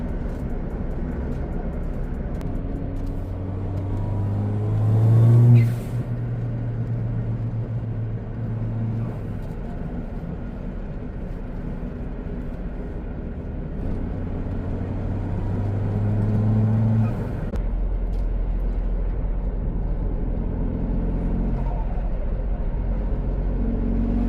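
A Ford Fiesta ST driving with fresh transmission fluid, its engine a steady interior drone that rises in pitch, then drops as gears shift twice, with road rumble underneath throughout.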